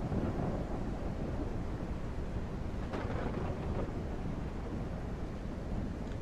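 A thunderstorm with rain in the video game No One Survived: a steady, loud rush of rain and rumbling storm noise, with one sharper crack of thunder partway through and no talking.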